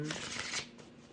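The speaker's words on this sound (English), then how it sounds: "I'm going to just shuffle." Tarot cards shuffled by hand in a quick, dense riffle of papery flutters lasting about half a second, which then trails off into softer card rustles. The sound is close and fairly quiet, and there is a faint voice in the background.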